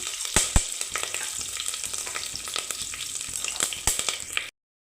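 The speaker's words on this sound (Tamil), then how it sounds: "எண்ணெய் ஊற்றிட்டு எண்ணெய் காஞ்சோன்னே கொஞ்சம் சோம்பு, கறிவேப்பிலை, பிரியாணி இலை இது 3 போட்டு நம்ம தாளிச்சிக்கலாம்." Fennel seeds, curry leaves and a bay leaf crackle and sizzle in hot oil in a cooker, with sharp pops and stirring scrapes over a steady fry before it cuts to silence.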